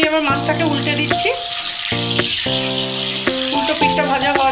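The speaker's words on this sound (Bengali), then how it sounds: "উল্টো পিঠটা ভাজা হওয়ার জন্য উল্টে দিলাম।" Prawns flipped in hot oil in a wok give a steady, close sizzle that runs the whole time under a melodic music track.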